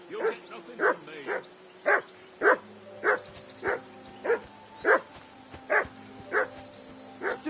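A dog barks repeatedly at a village mutt in the video game Kingdom Come: Deliverance 2. There are about a dozen sharp, evenly spaced barks at moderate distance over low background tones.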